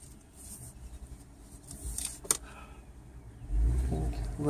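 A learner driver's car engine rises in a low rumble as gas is applied, swelling near the end over quiet cabin noise and a brief click.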